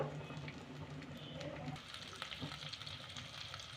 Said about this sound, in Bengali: গ্যাসের আঁচটা কিন্তু আমি লো টু মিডিয়ামে রাখবো এভাবে আমি ফ্রাই করে নেবো